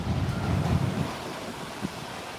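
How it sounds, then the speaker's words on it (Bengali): Cold wind of a Kalbaishakhi storm gusting across the microphone, a low rumbling rush that swells in the first second and then settles into steady blowing. "এই ঠান্ডা হাওয়াটা কতটা সুন্দর লাগছে।"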